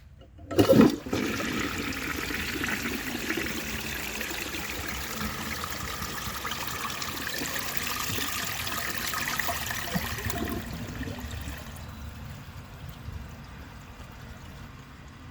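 A 1948 Kohler Brooklands toilet flushing a dish towel, a sudden loud rushing flush that roars steadily for about ten seconds, then tapers into a quieter trickle and refill.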